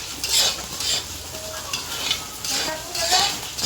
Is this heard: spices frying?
yes